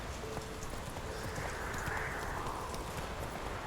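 Roach, the horse in The Witcher 3 on Nintendo Switch, gallops with a steady, dense patter of hooves over a constant wash of ambient game noise, with no talk.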